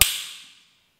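Bang snap balls, coated with potassium chlorate, sulfur and glass powder, rubbed together between the hands give a single sharp crack that decays quickly, loud and close with no one talking.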